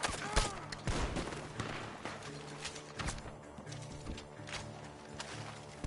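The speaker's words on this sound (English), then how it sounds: "The gunshots are coming from that farm." Repeated gunshots ring out from a farm in Red Dead Redemption 2, scattered cracks over horse hooves and ambient game noise, with a voice talking intermittently.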